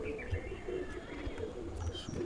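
Pigeons kept as pets give a few soft, low coos close by, faint under light background noise.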